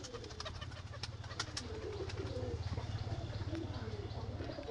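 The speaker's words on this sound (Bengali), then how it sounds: "আর বিগ সাইজের পায়রাটা" Large pigeons, including closed-tail birds kept at a sale loft, coo in a steady low rhythm through soft background chatter and occasional faint chirps.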